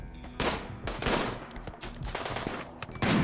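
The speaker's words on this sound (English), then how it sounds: "they got a heavy SMG shooting at us" Heavy SMG gunfire in a video game rattles in loud, sustained automatic bursts, dense overlapping shots carrying through the whole stretch without talk.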